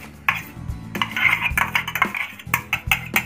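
Clinking and knocking of a mixer-grinder blender jar being handled and washed in a kitchen, irregular clatters of glass and metal up close, no talking.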